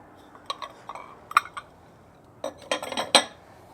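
Small glazed ceramic dishes clink and knock together as they are handled, a run of sharp, bright taps scattered over a few seconds, close and moderately loud with no voices.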